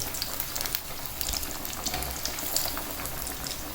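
Aloo tikki fry in oil on a slow flame, making a soft, continuous bubbling sizzle with scattered light crackles, close but fairly quiet, with no voices.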